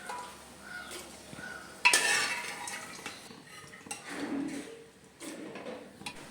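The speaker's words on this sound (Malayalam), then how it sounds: "നമുക്ക് ആവശ്യത്തിനുള്ള പയർ ഇതിലേക്ക് ചേർത്ത് കൊടുക്കാം" Cooked lentils go into pumpkin erissery and get mixed, with a metal spoon scraping and clinking against the pot in short, fairly quiet bursts separated by brief pauses, with no speech.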